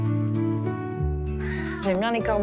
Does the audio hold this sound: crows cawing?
yes